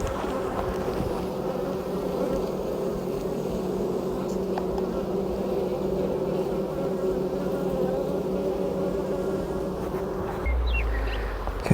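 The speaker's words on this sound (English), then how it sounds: "there's my bees" Steady, dense buzzing of many honeybees close by, a continuous drone with no pauses and no voices.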